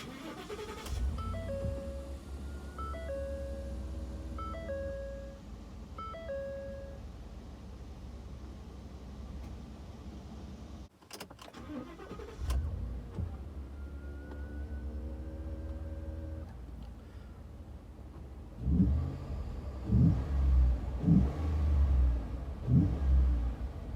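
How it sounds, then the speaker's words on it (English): A warm 2013 Ford F-150 fitted with a Spectre cold air intake cranks over, catches and settles into a steady idle, then gets a series of sharp throttle blips that rise to a loud, throaty growl near the end. "Now I'm going to start the truck."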